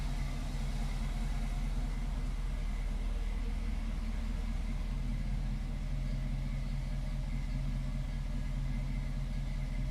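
The 5-liter V8 of a 1991 Camaro runs at a steady idle, a close, even low rumble with a continuous throb lasting throughout, no voices over it.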